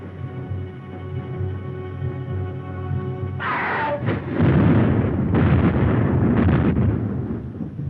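Ship cannons fire in a naval battle in a 1936 war drama film: a steady droning gives way to a series of loud, deep booming blasts and rumbling bursts that roll on for several seconds.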